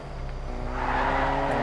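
A car engine in the Fortnite battle royale video game grows steadily louder as the vehicle approaches, with a rising drone under a player's voice.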